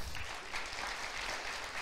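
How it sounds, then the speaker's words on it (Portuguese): A church congregation at a Portuguese-language sermon breaks into applause, a steady wash of clapping from many hands that stays even and fairly full for its short length. "Aplauda o Senhor por isso."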